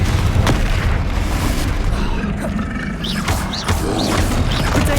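Confringo spell blasts in the Hogwarts Legacy video game, booming explosive impacts over dense, rumbling combat noise, loud and continuous with a couple of sharper hits standing out.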